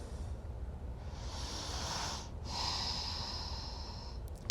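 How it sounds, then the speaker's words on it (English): Slow, audible breathing during a TRE forward-fold stretching exercise: long airy inhales and exhales, close and soft, with a brief pause between breaths and no talking. "3 breaths here."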